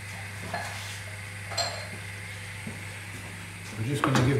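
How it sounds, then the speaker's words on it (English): Flour being stirred into melted butter in a hot pan, a soft continuous sizzle with a few scraping stirs, growing louder and busier toward the end. "We're just going to give that a little mix"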